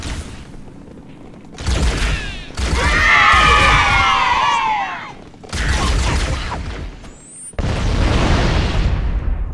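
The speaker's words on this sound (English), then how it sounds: "More explosions in the distance." Explosions from the Halo video game, fighting the Flood, rumble in the distance as repeated booming bursts and gunfire-like pops, loud and rolling through most of the stretch.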